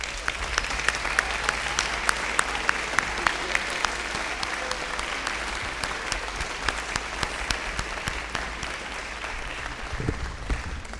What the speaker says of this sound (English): if we could give them a giant round of applause.